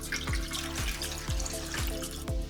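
Water poured into a Ninja Slushi machine while a strawberry daiquiri is being made, a steady splashing stream with a few soft, regularly spaced thuds through it, close and unbroken.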